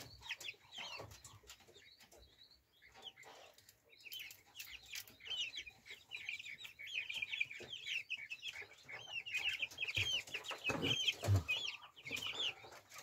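Young Brahma chickens cluck and chatter continuously at moderate distance, the overlapping calls building in density and loudness toward the end.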